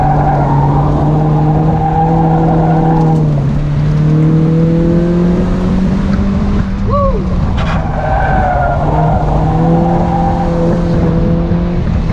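A stock Mazda Miata driven at the limit on a track, its engine droning loudly and steadily with shifting pitch as revs rise and fall, plus a brief tire squeal midway.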